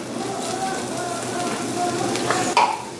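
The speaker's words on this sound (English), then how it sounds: "I'm gonna dump my mushrooms in there. Kind of saute them a little bit" Mushrooms sautéing in a pan after shrimp are taken out, a close steady sizzle with stirring scrapes and a few sharp utensil clinks near the end.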